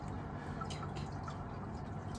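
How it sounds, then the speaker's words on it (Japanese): A small river fish (kawamutsu) drops into water with a brief, soft splash and drip, close and faint against a steady low background hum. "シャポンっていう音とともに落ちた川むつさんです"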